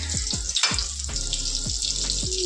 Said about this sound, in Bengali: তেল যখনই গরম হয়ে যাবে এগুলো একটা একটা করে আমি এর মধ্যে দিয়ে দেবো